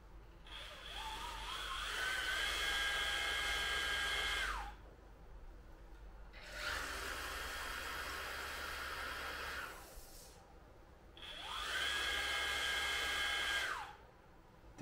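MaxXT Hyperfit and Mirka Deros random orbital sanders, each heard running in three separate steady whirring runs of several seconds with a brief spin-up and wind-down, close and fairly quiet, with short silences between.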